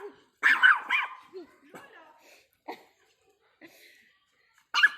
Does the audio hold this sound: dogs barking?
yes